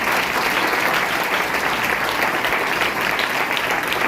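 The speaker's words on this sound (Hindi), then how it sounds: "एक बार महावीर जी के लिए आप तालियां बजाएंगे।" A crowd at a Himalaya-conservation pledge event bursts into sustained, dense clapping for a guest, loud and even throughout with no letup.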